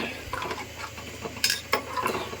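Mint being stirred into frying mutton biryani masala: a soft sizzle under scraping spoon strokes and a couple of sharp metallic clinks against the pot, close and brief.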